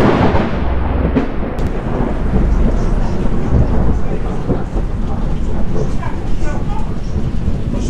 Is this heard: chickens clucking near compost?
no